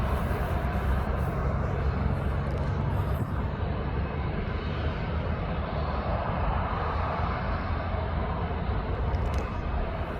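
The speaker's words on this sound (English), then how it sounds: "There's two of these aircraft at East Midlands." Aircraft at East Midlands Airport, one of two of its type there, on wet lease to Tui, produce a steady broadband engine roar that holds evenly throughout without breaks or voices.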